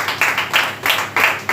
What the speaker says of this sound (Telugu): మరొకసారి గట్టిగా చప్పట్లు కొడదాం.